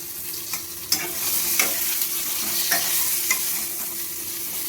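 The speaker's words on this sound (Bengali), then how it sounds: "কুমড়ো আর বেগুনটা আমি কড়াইয়ের মধ্যে দিয়ে দেবো। দিয়ে আমি ফোড়নের সাথে ভালোভাবে ভেজে নেব।" Pumpkin and eggplant frying with spices in a wok, giving a steady close sizzle broken by several sharp scraping clicks from stirring at irregular intervals.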